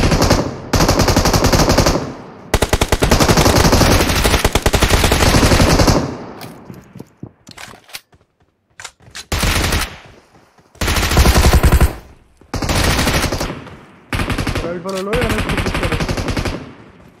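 Loud bursts of automatic machine gun fire in the PUBG Mobile video game, long sustained volleys broken by short pauses and quieter single shots, close and dominant, with little talk.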